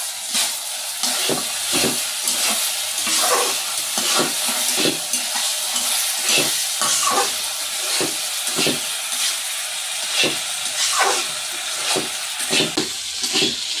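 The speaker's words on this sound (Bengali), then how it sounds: "আজকে আলু পেঁয়াজ কষাবো" Potatoes and onions sautéing in a pan, a continuous close sizzle broken by frequent scraping stirs of a spatula at an irregular rhythm, with no talking.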